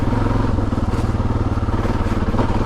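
Adventure motorcycle ridden along a forest trail, its engine thrumming steadily and close with a rapid pulsing rhythm, mixed with light clatter from the rough ground.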